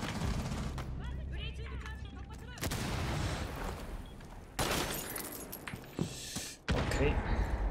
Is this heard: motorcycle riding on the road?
no